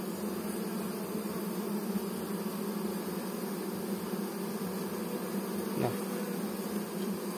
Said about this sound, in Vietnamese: Con ong nội địa mình là cái loại con nhỏ nha, còn con ong Ý kia là to lắm.